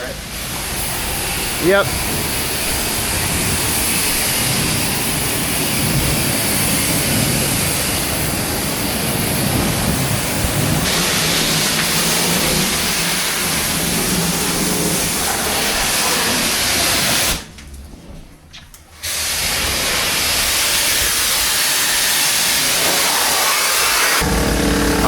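A pressure washer hisses steadily as it rinses bleach off a wood deck, a broad rushing spray that runs almost without a break. It drops out briefly near the end, and a voice speaks once.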